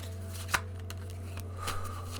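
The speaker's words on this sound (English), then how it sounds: "I'm just gonna shuffle these cards." Tarot cards being shuffled, with a sharp snap followed by softer riffling and brushing over a steady electrical hum.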